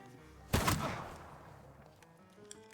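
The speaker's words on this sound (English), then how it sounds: "Here comes the fucking guns." Enemy gunfire in the video game The Thaumaturge: one sharp, loud blast followed by a short rattling burst, then a quieter decaying tail with a couple of faint later pops.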